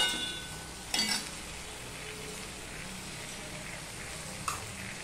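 Bata fish curry with ridge gourd and potato, salted and sizzling in a pan, a steady close frying hiss with a clink of a utensil near the start and another brief clink later.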